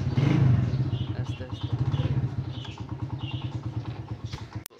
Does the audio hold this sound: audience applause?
no